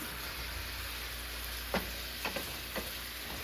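Baby bok choy stems sizzle in a hot pan, a steady close hiss broken by a few soft clicks and pops as they settle, with no talking.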